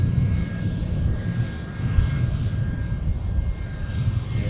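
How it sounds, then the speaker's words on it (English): A Boeing 717 airliner at Minneapolis–St. Paul (MSP) airport gives off a steady, loud low rumble of engine noise that holds without a break, with no talking over it. "we see the 717 here at MSP all the time"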